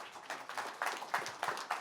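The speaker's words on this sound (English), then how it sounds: "Let's give him a big round of applause." Scattered audience clapping at a professional meeting in Los Angeles, fairly faint and distant, with irregular bursts of hand claps across a thin room.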